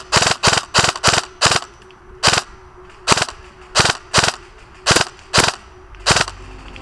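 A HotShots toy gun fires a series of sharp, loud cap-gun cracks, about a dozen close shots in uneven bursts of two or three, with short pauses between groups.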